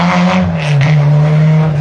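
A rally car brakes hard at a spectator point on a closed mountain stage, its loud engine droning steadily with a slight scraping, tire-on-gravel texture, close and continuous for under two seconds.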